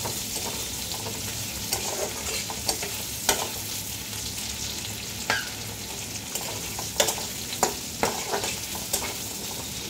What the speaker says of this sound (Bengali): এই পেঁয়াজটা দিয়ে একটু